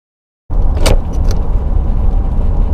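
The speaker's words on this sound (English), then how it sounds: "We could hear a scratchy / grinding noise." A truck in neutral gives a scratchy mechanical grinding from the transmission parking pawl, starting abruptly and running continuously with a brief sharper scrape near the start.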